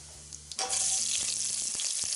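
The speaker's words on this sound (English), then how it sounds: "we're just going to saute the onions up" Onions hit a hot pot and start sautéing, with a sudden loud sizzle that then holds steady and close alongside light stirring clicks.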